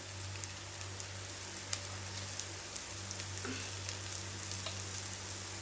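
Onion, green chili and curry leaves sautéing in a pan for a chicken pepper soup, a steady close sizzle with scattered small crackles and no talking.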